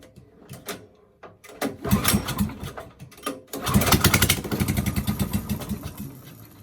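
A go-kart's small petrol engine, pull-started, sputters and catches in bursts, then settles into a loud, steady buzzing run close by.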